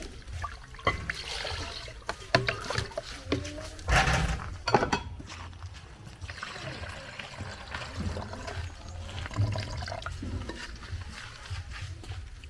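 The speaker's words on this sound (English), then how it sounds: "So I want to boil this meat." Meat goes into a pot of water with salt and mushroom, bringing splashing, pouring and bubbling water along with clinks of the pot, loudest early and then settling into a softer simmer.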